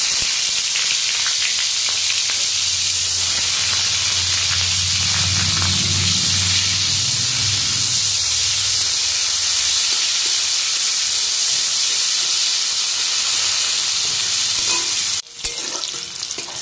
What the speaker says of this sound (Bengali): এখন তেলটা গরম হয়ে গেছে, এখন পেঁয়াজ দিয়ে দিচ্ছি।